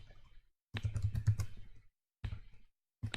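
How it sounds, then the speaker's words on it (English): Bursts of rapid keystrokes on a computer keyboard while entering text in the vi editor, grouped into short runs separated by silent pauses, close and fairly quiet. "Hit I to insert, and I want you to start typing exactly what's just written in there."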